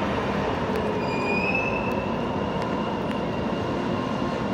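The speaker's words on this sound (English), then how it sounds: "train driving" A Sacramento light rail train runs past at 8th and H, a steady loud rumble of rolling wheels with a faint high squeal drifting through, continuous throughout.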